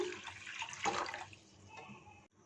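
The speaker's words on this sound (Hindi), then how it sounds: "इसमें इतना पानी डालेंगे कि अंडे बिल्कुल डिप हो जाएं" Water pours into a pan holding two eggs on a stove, a short gushing splash that swells and then tapers off, close and fairly quiet.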